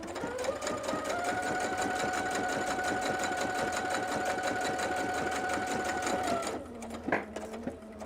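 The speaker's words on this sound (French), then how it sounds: "quand je reste appuyé dessus, la machine donc fait un petit point d'arrêt et donc a coupé le fil" A PFAFF Creative Expect 350 sewing machine runs a fast, even stitching whir for several seconds, then stops with a brief tie-off and a short mechanical clunk as it cuts the thread.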